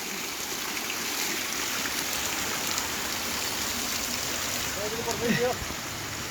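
Spring water flows and patters steadily in a constant wash at a temple, with a brief faint voice or chirp near the end.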